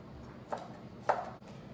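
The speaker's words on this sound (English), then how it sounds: "And I have 8 cloves of garlic, 8 large cloves of garlic. So I'm going to start mince them as fine as possible." Garlic cloves being minced with a knife on a cutting board, giving two distinct chopping knocks about half a second apart, fairly faint and close, with no talking.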